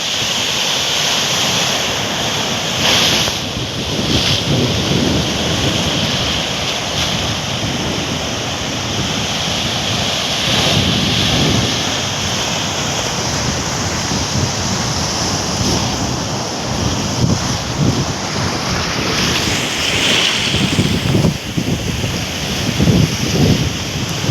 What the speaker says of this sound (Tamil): இப்போ வந்த தண்ணீர் போகுது.